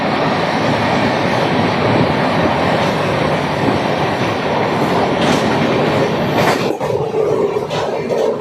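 The Azimabad Express runs at full speed on the stretch between Patna and Rajgir, with a loud, continuous rumble and rattle of wagons and rhythmic wheel clatter close by.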